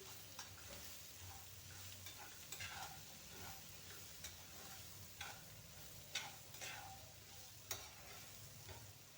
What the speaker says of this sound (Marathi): आपण हे बारीक करून घेतलेले वाटाणे आहेत ना ते यामध्ये घालून घेऊ छान मिक्स करून घेऊया मसाल्यामध्ये